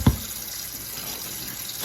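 Tap water runs steadily into a bowl where vegetables will soak, an even close hiss that follows a brief splash at the start, with no voices.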